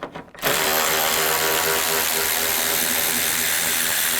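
A power tool with a 10mm socket runs continuously close by, a loud steady whir, while bolts come out during headlight replacement on a 2011–2014 Chrysler 200, starting after a brief quiet moment.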